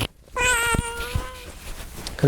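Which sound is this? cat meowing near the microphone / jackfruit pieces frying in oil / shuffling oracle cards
cat meowing near the microphone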